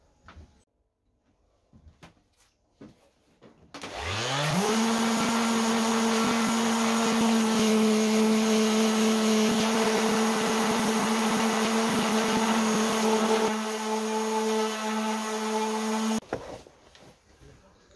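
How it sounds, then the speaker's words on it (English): A power sander strips paint from a carved wooden sign, spinning up after a few quiet taps and humming loudly and steadily for about twelve seconds before stopping, with faint handling noises at either end. "I'm going to try and sand this off, and I'm hoping it works because I've not tried this before"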